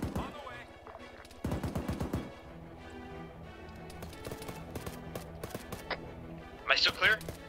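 Gunfire in the Arma 3 video game, sharp bursts of rapid shots and scattered single cracks amid battlefield noise, with a fast volley around the second mark and louder impacts near the end, mixed under voice chat.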